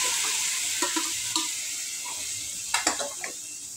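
Boiled cowpeas tipped into hot spiced oil give a steady broad sizzle, with a few soft stirring scrapes and clinks of a utensil against the pan, close and with no talk.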